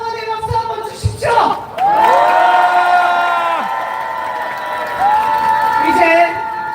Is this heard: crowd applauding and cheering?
yes